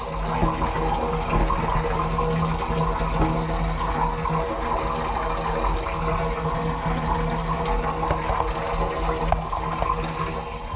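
Steady rushing water pours continuously with a low hum underneath as a boat's water tank fills from a hose, with no voices.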